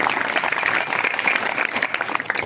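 An audience at a kirtan gathering claps continuously, a thick, even wash of hand claps close by with no voices standing out.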